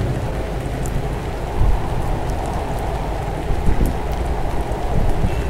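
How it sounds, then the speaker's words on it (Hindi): Acid rain pouring in the Roblox video game, a steady dense hiss of rainfall with a few low rumbling swells, continuous and fairly loud with no voices. "ये देखो बारिश हो रही है. एसिड रेन एक ही सेकंड में सारा स्कूल तबाह कर दिया."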